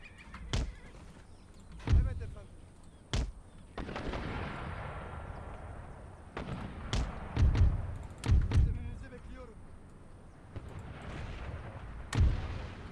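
Mortar fire in the video game Empire: Total War (Darthmod, Ottoman Empire battle): a series of heavy booming blasts at irregular intervals, some in quick pairs, over a low battlefield rumble.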